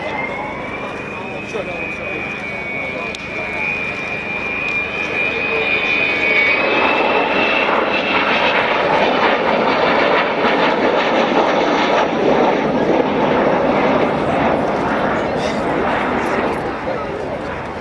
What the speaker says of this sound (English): Vulcan XM607. Coming back in towards us now